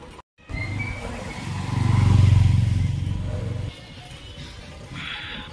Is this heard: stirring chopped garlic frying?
no